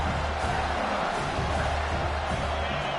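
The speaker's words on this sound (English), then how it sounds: "this crowd is at fever pitch" Stadium crowd in College Football 26 roaring at a steady, dense level during a third-down red zone play, a continuous wash of cheering with no breaks across the moment.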